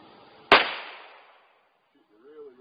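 .22 rifle fired once at a target during shooting practice, a single sharp crack with a short fading tail, followed by a brief voice near the end.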